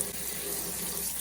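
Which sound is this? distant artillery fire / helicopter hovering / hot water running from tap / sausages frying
hot water running from tap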